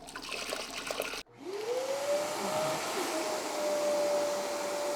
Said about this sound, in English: the vacuum just provides enough vacuum in there, enough help to make it go through the filter very quickly